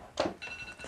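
An electronic telephone ring sounds once, fairly close and clear, followed by a faint sustained ringing tone, with no talk over it.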